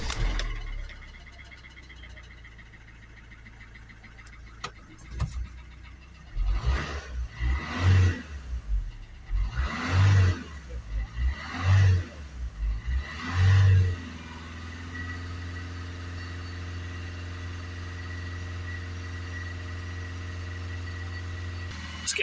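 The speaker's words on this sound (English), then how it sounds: "I'm going to start the vehicle up." A Peugeot Bipper 1.3 HDi diesel van is cranked and starts, with a few surging revs before settling into a steady, close diesel idle.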